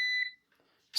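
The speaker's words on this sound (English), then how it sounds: "The beeping, that just means that there's a short." A continuity tester signalling a short circuit across switch terminals gives one short electronic beep, then silence, and a second beep starts right at the end.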